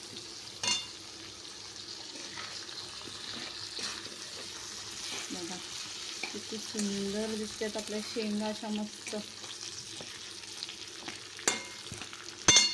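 Dal and crushed peanut powder roast and sizzle in a pan as a Marathi drumstick amti is prepared, a steady soft frying hiss with stirring scrapes while someone talks over it.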